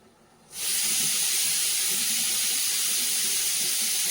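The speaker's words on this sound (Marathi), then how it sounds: "कुकरच्या शिट्ट्या वाजता आहे भात लावलेला आहे मी त्यासाठी शिट्ट्यांचा आवाज येतो आहे" A pressure cooker of rice whistles in a home kitchen: a sudden, loud, sustained jet of steam hiss with a shrill high tone that bursts in after a quiet start and holds steady.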